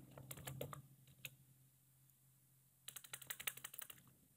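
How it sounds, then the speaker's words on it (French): Password keystrokes on a computer keyboard, close and crisp, arriving in two quick bursts of clicks separated by a short pause, with no talking. "Vous ne voyez pas ce que vous tapez, vous devez juste confirmer ce que vous venez de taper"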